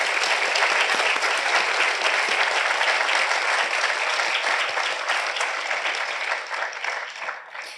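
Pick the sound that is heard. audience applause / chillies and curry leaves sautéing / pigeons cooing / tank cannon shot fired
audience applause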